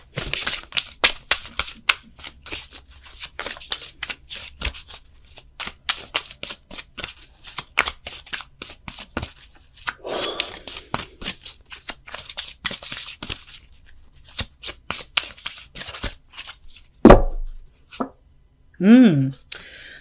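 Tarot cards are shuffled by hand up close, making a rapid, irregular patter of crisp riffling clicks in repeated bursts, with a few short pauses between them.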